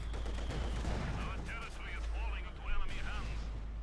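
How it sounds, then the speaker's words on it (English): Two mortars fire as a battery in Company of Heroes 2, dull thuds and booms under constant battle rumble, with a heavier blast near the end and a commentator talking throughout. "there we go, double mortars, essentially a mortar battery out here from Brosras"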